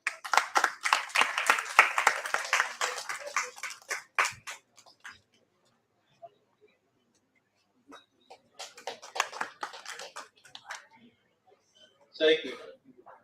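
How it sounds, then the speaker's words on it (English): Audience applause at a doctors' conference at the India Hemp Expo, a burst of clapping lasting about four seconds, then a pause and a second, thinner round of claps, close and moderately loud. "It's a big round of applause to him."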